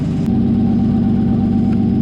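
A Nissan S14 with an RB25DET engine runs steadily through a straight-pipe exhaust, giving a loud, continuous low rumble with a constant idle-like drone and no voices.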